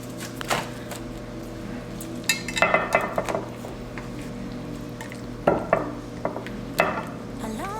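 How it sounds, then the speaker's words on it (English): Mustard and white wine being mixed in a bowl for meal prep, with scattered clinks and scraping taps of a utensil against the dish over a steady low background hum. "I'm going to be mixing mustard and white wine."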